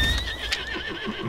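A horse in the Lost Ark video game gives a short, close whinny over soft clip-clopping hooves as it is ridden, with no talk.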